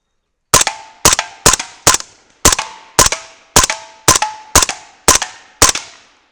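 A 300 BLK rifle fires about eleven loud, evenly spaced shots at a propane tank, each sharp crack followed by a short ringing decay, with no talk.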